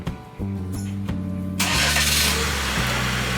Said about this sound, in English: Vehicle is now started